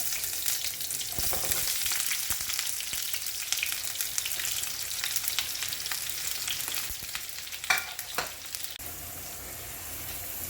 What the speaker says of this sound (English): while we're golden frying the onions